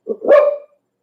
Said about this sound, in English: it's the smartest dog I've ever had in my life